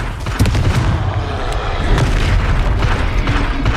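A Confringo spell in the video game Hogwarts Legacy erupts in a loud, booming blast with a dense rumbling roar that continues steadily for several seconds, with no talking over it.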